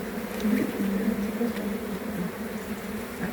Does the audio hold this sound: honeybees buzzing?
yes